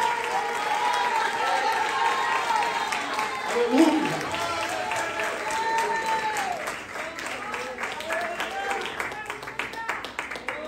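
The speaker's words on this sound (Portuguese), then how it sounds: "Vamos dar a melhor salva de palmas a Ele e glorificar o seu santo nome." Church congregation applauding in worship, a dense sustained patter of clapping mixed with crowd voices and shouts, with a voice calling out over the hands.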